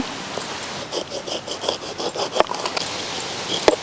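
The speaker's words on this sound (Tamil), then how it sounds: "இப்போ இந்த பைனாப்பிள் வந்து நல்லா கட் பண்ணி எடுத்துக்கலாங்க" A knife cuts through a whole pineapple, giving a run of short rasping, scraping strokes with a few sharper crunches near the end, close and moderately loud with no voices.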